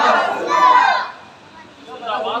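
A crowd at a religious gathering chanting in unison after the Nara-e-Takbeer call: a loud collective shout, a brief dip, then a second rising chorus of many voices.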